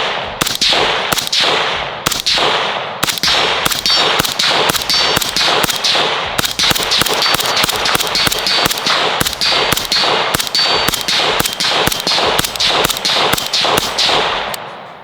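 Rapid rifle shots fired through a HuxWrx Flow556k suppressor crack one after another in a fast, loud, even string, close by with no talk.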